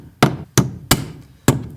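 A hammer knocks a metal knockout from an electrical box in four sharp, loud metallic raps, evenly spaced and close, with no talking.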